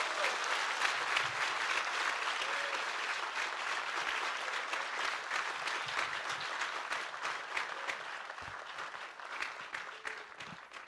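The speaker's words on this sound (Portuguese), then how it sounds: "Vamos dar uma salva de palmas ao Senhor." A church congregation gives sustained, even applause in praise of the Lord during a sermon, a dense wash of clapping that holds steady for the whole stretch and fades a little at the close.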